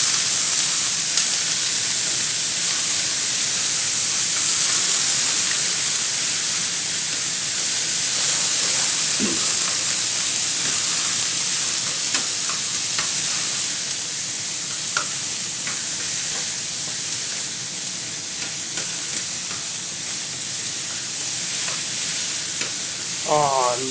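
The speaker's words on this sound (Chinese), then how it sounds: "记住，一定要用力翻炒，搅拌" Cheap frozen bacon stir-fries in a pan, giving a continuous dense sizzle with scattered scraping ticks as it is stirred and tossed, close and steady throughout.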